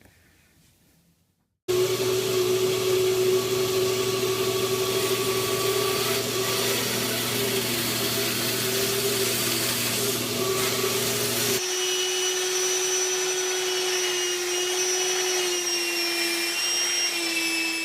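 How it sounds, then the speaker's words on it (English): Belt sander clamped to a workbench, motor whining and belt whirring loudly and steadily after a quiet start, with a shift to a slightly lighter, smoother tone partway through. "I just rigged up a very simple thing with my belt sander"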